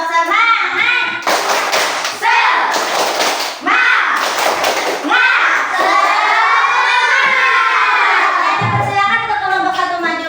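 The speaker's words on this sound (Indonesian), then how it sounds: "Sebelum maju, kita tepuk semangat dulu." A classroom of students does a spirited rhythmic clap, with several sharp bursts of unison clapping separated by shouted chants, loud and close, and voices calling out between and over the claps.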